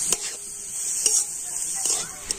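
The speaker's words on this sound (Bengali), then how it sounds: "তো এখন আমি গুড় আর নারকেলটা কিন্তু খুব ভালোভাবে মিশিয়ে নেব আর এইভাবে নাড়তে নাড়তে তো গুড়টা কিন্তু গলে যাবে" Grated coconut and jaggery are stirred together in a pan over low heat for a semolina bhapa pitha filling, with a steady soft sizzle and a few sharp spoon scrapes against the pan.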